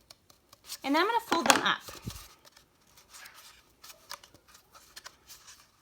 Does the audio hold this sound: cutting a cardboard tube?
yes